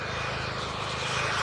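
Model turbine jet aircraft making a low pass at an airshow, trailing display smoke from oil injected into its exhaust; a steady, loud broadband jet roar with a faint whine holds throughout, growing slightly louder toward the end.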